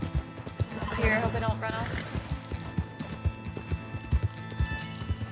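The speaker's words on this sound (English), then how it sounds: "Wild horses all the way the heck out here, aren't they?" In Red Dead Redemption 2, wild horses neigh and whinny shrilly over steady clip-clopping hooves at a run, close and fairly loud, while someone talks over them.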